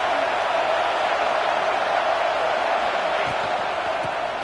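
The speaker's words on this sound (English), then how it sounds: "This crowd is fired up. Listen to this noise here." A packed football stadium crowd roars steadily and loudly during a game, a dense continuous wall of cheering and shouting that holds for the whole stretch.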